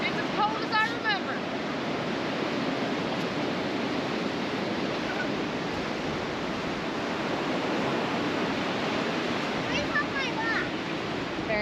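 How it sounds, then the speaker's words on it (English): Cold ocean surf washes steadily along a Pacific Northwest beach, a continuous broad roar of breaking waves with wind, while voices talk briefly over it. "The wave's gonna come up."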